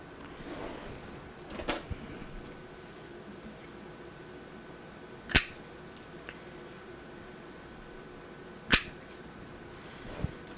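A paper punch cuts 1/16 inch holes in paper. There are two sharp, isolated clacks a few seconds apart, with faint rustling and handling noise in between and no talking.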